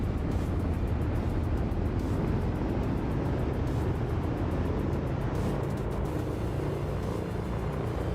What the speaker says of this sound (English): Like I said, this aircraft is loud.